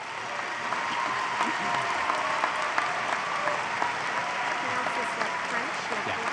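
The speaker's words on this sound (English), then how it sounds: "this is a good moment for a round of applause for our" A convocation audience applauds graduates with dense, steady clapping from a large crowd that carries on evenly throughout, heard from a moderate distance in a big hall.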